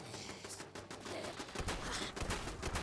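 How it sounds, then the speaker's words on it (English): Gunfire in a sandbox multiplayer game, with other players shooting: a dense, rapid run of shots that swells into louder, heavier bursts partway through, continuous and fairly close. "people are shooting immediately"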